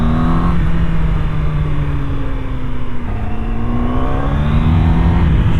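A Honda motorcycle engine drones loudly and steadily while riding through Mumbai, its pitch rising and shifting with throttle changes, with no talking.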